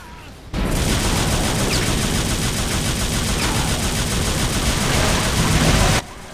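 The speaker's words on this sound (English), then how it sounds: "Feel my harpoon gun." A harpoon gun firing rapidly at monsters in a video game, a dense, loud stream of fast shots that starts abruptly and holds steady for several seconds before cutting off.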